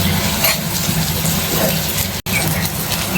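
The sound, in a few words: water poured into fried pumpkin curry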